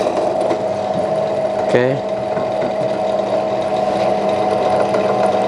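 A Yasuka YDP 103A bench drill hums steadily with a smooth motor whine and faint mechanical rattle, a brief spoken word breaking in near the middle.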